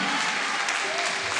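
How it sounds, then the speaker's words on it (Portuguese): A church congregation claps together in worship, a brief, dense burst of many hands applauding steadily with no break. "Aplauda o nome do Senhor, querido."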